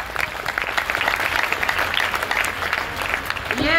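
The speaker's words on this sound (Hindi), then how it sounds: "और ये हम सभी के मेंटर, गुरु माता पिता, धर्मशिला मैम और सुरेंद्र सर के लिए जोरदार ताली।" A meeting audience applauding loudly, with dense, continuous hand clapping from a crowd indoors that holds steady throughout.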